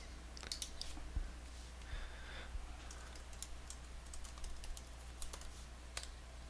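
Fingers typing an email address on a computer keyboard, a quick run of soft, uneven key clicks close by and fairly quiet, with no voices.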